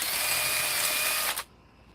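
A hammer drill runs loud and close in one steady, high whine, then cuts off abruptly just before the end, leaving near silence.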